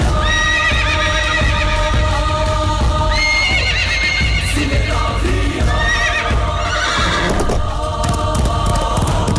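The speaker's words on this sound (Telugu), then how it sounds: "చూసిండ్రా సినిమాలలో కదా గుర్రాలు ఉరికినట్టే ఎట్లా ఉరుకుతున్నాయో, అది కూడా మళ్ళా లండన్ రోడ్ల మీద." Horses run along a London road, hooves clip-clopping in a steady, loud rhythm with occasional neighs and whinnies throughout, no talking.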